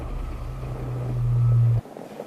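A Peugeot rally car runs flat out on a circuit, its engine droning loudly and rising in pitch before cutting off sharply, with no talk.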